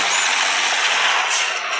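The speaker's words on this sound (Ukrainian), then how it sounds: "Запустимо цей трактор" A tractor engine starts up in a farming simulator game, a loud, steady mechanical roar filling the short moment with no talking.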